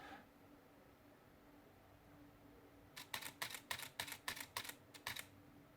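A camera shooting continuously after its self-timer runs down: after three seconds of quiet, a rapid burst of about ten crisp shutter clicks follows in quick, slightly uneven succession, close and clear.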